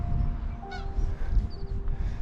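Whooper swans calling as they fly over the coast near Castlerock, a few bright honks overlapping at moderate distance above a low rumble of wind.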